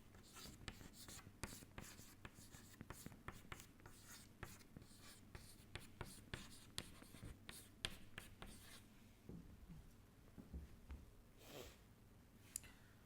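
Chalk or marker scratching and tapping on a board while equations are written out in a lecture, a quiet, irregular series of strokes that thin out toward the end.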